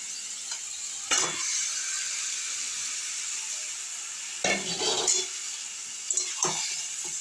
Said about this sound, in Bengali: তেলটা দিয়ে দিয়ে কষে নিচ্ছি